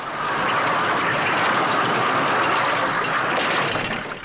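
A 1954 stunt plane comes in to land, its engine and rushing air forming a loud, steady roar that fades slightly at the end.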